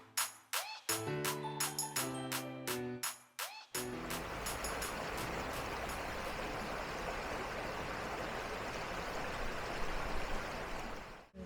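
A stream flows beside a campsite in the forested hills of northern Thailand. A soft, steady rush of water continues alone after a brief stretch of talking at the start.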